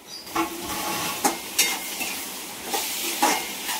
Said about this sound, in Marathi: कांदा आपला लालसर झालाय. आता यात सोडते मी टमाटर.